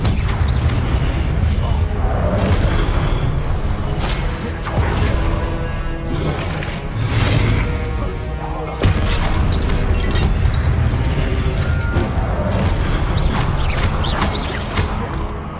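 Spell impacts in Hogwarts Legacy combat, a loud, busy stream of magical bursts, crashes and whooshing blasts hitting in quick succession over a layered game soundscape.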